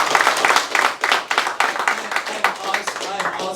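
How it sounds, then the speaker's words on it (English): A crowd applauds steadily, clapping hands filling the whole stretch, with some vocal noise mixed in. "You guys give him a round of applause."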